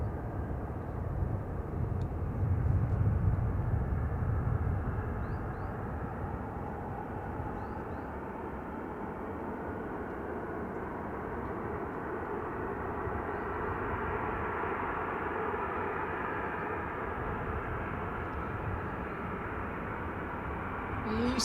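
A Jet2 airliner on approach to the runway at Manchester Airport gives a steady, broad engine roar that swells slightly early and then holds at a moderate distance throughout.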